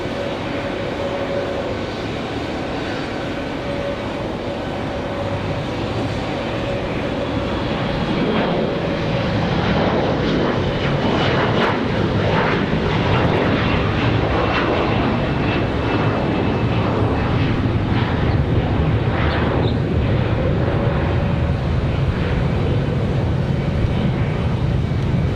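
Airliner departing a runway at Raleigh-Durham International Airport on a windy day, a steady broad engine roar that stays loud and fairly even throughout, without speech.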